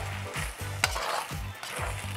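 Pad thai noodles with soy sauce are stir-fried in a pan, giving a constant sizzle broken by rhythmic scraping strokes of the utensil about every half second, close and fairly quiet, with no voices.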